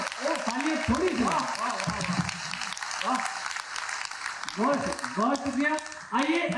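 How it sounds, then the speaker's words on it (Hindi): Scattered audience clapping at a Hindi kavi sammelan poetry recital, moderate and uneven, rising and thinning in bursts while voices and murmured talk run through it. "तालियां थोड़ी सी।"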